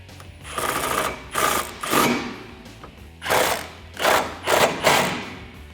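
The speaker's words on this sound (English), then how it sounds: "Now with your 13mm socket and 13mm wrench, tighten these down." A 13mm socket wrench ratchets nylon lock nuts tight while tube doors are installed on a Jeep Wrangler JK, in about seven short, close bursts of clicking separated by brief pauses.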